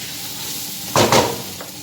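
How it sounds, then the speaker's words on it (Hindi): Marinated chicken hits a hot karahi with a sudden loud sizzle and brief crackling burst over a low background hiss, then settles back down. "चिकन जो है वो मेरा मैरिनेट हो चुका है। और मैं सारे चिकन इसके अंदर ऐड कर दूँगी।"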